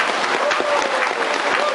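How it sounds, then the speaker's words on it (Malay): Steady applause from an audience filling a hall at a talk or panel event, dense clapping sustained without a break throughout. "marilah kita sama-sama memberi tepukan yang paling gemuruh"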